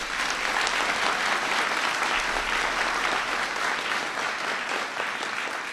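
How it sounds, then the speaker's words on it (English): An audience at a White House science fair gives teachers a big round of applause, a dense and steady wash of clapping that holds at even volume throughout. "So give teachers a big round of applause."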